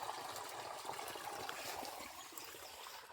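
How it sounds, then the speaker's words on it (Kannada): Irrigation canal water flowing toward a village field, a steady soft trickling and gurgling stream, faint and continuous, with no voices. "ನೀರು ಇಲ್ಲಿ ಹೋಗ್ತಿದೆ, ಇದು ಹೊಲಕ್ಕೆ ಹೋಗ್ತಾ ಇರೋದು ನೀರು, ನಾಲೆ ನೀರಿದೆಲ್ಲ"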